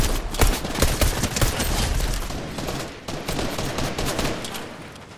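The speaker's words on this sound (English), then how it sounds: "I shot him with the shotgun." Fortnite gunfire with a shotgun fills the space with rapid overlapping bursts of loud shots, dense and continuous with a brief dip near the middle, and no talk heard.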